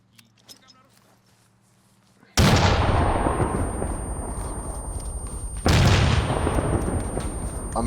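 Two grenade explosions in the military game Arma 3 burst in suddenly a few seconds apart, each a loud, heavy boom that leaves a long rumbling roar after a quieter opening with faint sounds.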